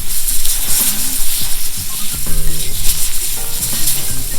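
Steak and mushrooms sizzle in a cast iron pan over an open fire, a steady crackling hiss running throughout with faint clinks and scraping mixed in, close and moderately loud.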